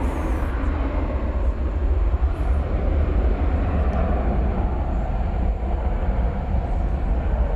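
An airliner departs DFW airport for Salt Lake City at night, a steady broadband jet roar that stays loud and continuous without talk.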